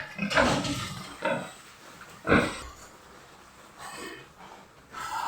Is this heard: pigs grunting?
yes